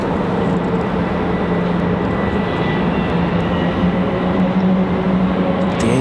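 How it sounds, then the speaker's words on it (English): An Airbus A300 approaches at Raleigh-Durham International Airport, its steady, loud jet engine roar filling the scene without pause or voices. "The A300 coming at us, headed back to Louisville, Kentucky."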